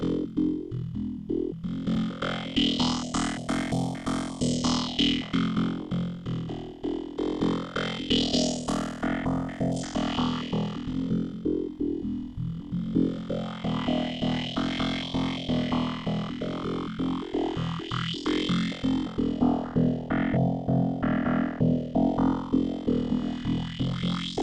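A trance lead synth plays a continuous melodic line through a slowly sweeping bandpass filter, its brightness swelling and receding in waves, moderately loud and alone.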